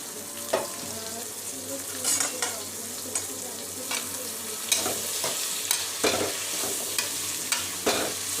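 Capsicum and tomato fry in a pan with a steady, close hiss of sizzling, broken by repeated sharp scrapes and clinks of a spoon stirring against the pan.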